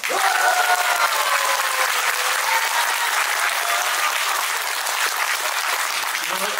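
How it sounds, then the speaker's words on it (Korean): A large audience applauds at a political talk concert in Mapo, producing a dense, loud, sustained wash of clapping that stays steady for the whole stretch. "여러분의 이 박수 소리가 저 천심을 울려서"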